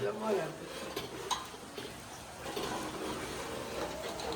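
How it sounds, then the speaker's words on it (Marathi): Maggi noodles being stirred in a metal pot, a steady scraping and clinking of spoon against pan with faint sizzling, close and continuous for several seconds. "मस्तपैकी असा ढवळून घ्यायचं त्याला चांगलं"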